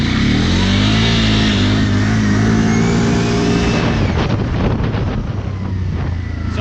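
A vehicle accelerating hard in all-wheel drive mode, its engine roaring loud and close with rising pitch, then shifting into a rougher, pulsing rumble with wind buffeting the microphone.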